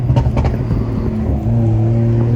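A 500hp BMW 340i accelerates hard at night, its engine note droning low and steady from inside the cabin with the window down, wind rushing past and a brief dip in tone as it pulls.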